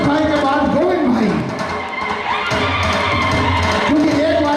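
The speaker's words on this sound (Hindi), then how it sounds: "एक बार जोरदार तालियां।" Crowd at a religious gathering where a donor is being honoured, cheering and whooping loudly and continuously under an announcer's voice, with a brief dip midway before the noise swells again.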